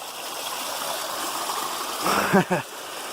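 Water runs steadily down a steep section of the Appalachian Trail near Garfield waterfall, a constant close rushing stream with a couple of brief louder splashes near the end.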